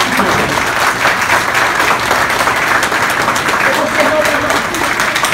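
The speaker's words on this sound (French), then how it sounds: "Le public va se mettre debout pour applaudir." A standing audience at a graduation ceremony applauds the new graduates with dense, loud and continuous clapping, while voices carry faintly beneath the ovation.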